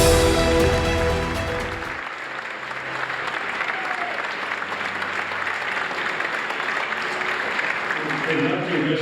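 An audience at a St. Louis Sports Hall of Fame induction ceremony applauds loudly and steadily for several seconds, and a voice speaks briefly at the start.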